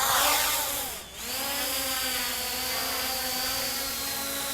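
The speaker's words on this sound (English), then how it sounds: "but it really is a smooth flying drone." A JJRC JJPRO X5 EPIK drone flies outdoors on a breezy day, its propellers giving a steady close whine that briefly dips and shifts pitch as it maneuvers, with no talking.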